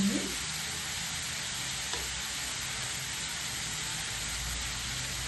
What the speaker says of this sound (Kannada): ಟೊಮೊಟೊನ ಕಟ್ ಮಾಡಿ ಅದನ್ನು ಕೂಡ ಲೈಟಾಗಿ ಸ್ವಲ್ಪ ಉಪ್ಪನ್ನ ಹಾಕಿ ಬಾಡಿಸ್ಕೊಳ್ತಾ ಇದ್ದೀನಿ